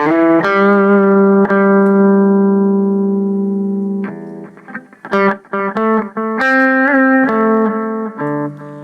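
Sustained electric guitar chords ring out through a Boss Katana Mini X amp, then quicker picked notes follow, each trailing into faint repeating delay echoes.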